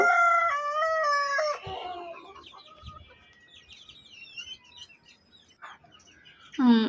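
Laying hens in a chicken coop make loud, drawn-out cackles and clucks at the start, then scattered quieter clucks and chirps before one more close squawk at the end.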